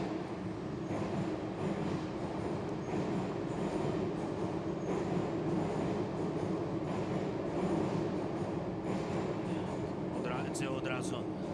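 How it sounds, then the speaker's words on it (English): A subway train runs through a metro station, a continuous loud rumble with rail clatter throughout and faint wheel squeals near the end. "so let's listen to the subway."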